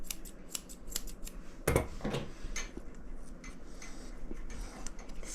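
Grooming scissors trim a Maltese dog's fur on the paws, giving rapid, close, crisp snips in irregular bursts with one louder cluster early on and no voices.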